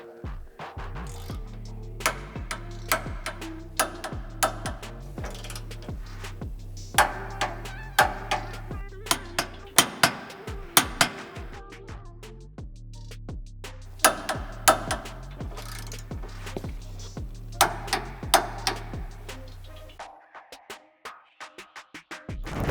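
Torque wrench tightening bolts on a Tesla Cybertruck CTX extreme duty front bumper and winch plate, giving repeated sharp mechanical clicks in bursts with short pauses, close and fairly loud, no talking.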